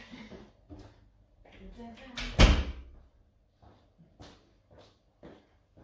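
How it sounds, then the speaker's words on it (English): A door is pushed shut with a single solid thud indoors, heard amid people talking nearby during a cardio and core workout session. "I'm going to close this door, because it's getting noisy down here"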